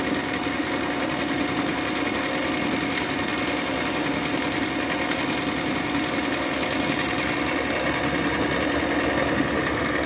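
A motorized table-mounted bobbin winder runs steadily, winding thread onto a bobbin with a continuous, even motor whir and a faint steady tone, no pauses or voices throughout.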